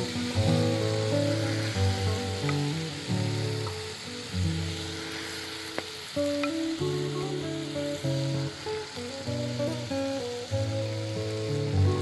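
Rui fish pieces sizzle as they are added one by one to hot oil in a pan for a Bengali dab rui dish, a steady hiss running beneath prominent background music.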